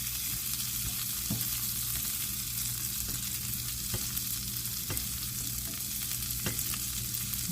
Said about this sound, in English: then you want to just toss your asparagus in the skillet